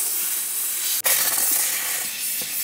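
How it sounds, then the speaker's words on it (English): Karcher SC3 domestic steam cleaner hisses continuously and loudly up close during car interior cleaning, a bright steady jet with a brief break and renewed burst partway through. "the steam cleaner that I was using right here is a Karcher SC3 domestic steam cleaner"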